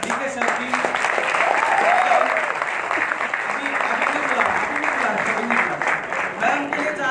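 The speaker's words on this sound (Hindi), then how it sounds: "आप लोगों की जोरदार तालियों से" Strong applause from an audience at a corporate company programme in Guwahati, Assam, a dense steady clatter running through the clip with a voice speaking over it.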